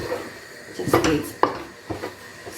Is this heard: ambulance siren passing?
no